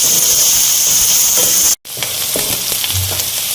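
Onions fry in hot oil with a bright, steady sizzle and hiss close up, with a brief cut to silence partway through and a few soft stirring knocks.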